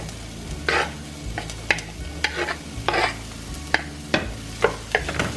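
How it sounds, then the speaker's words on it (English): Sausage frying in oil in a pan with sautéed vegetables for spicy pan-fried noodles; a steady sizzle runs beneath repeated close scraping and clattering stirring strokes, without talk. "Just a little bit more oil, and we're going to add our sausage in there."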